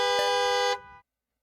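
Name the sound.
car horns honking in Fruity Maze video game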